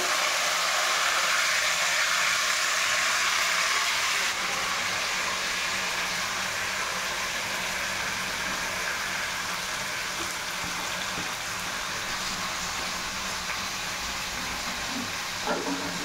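Amaranth leaves (thotakura) hitting a hot pan set up a steady, loud hiss of frying that fills the whole stretch close up without a break.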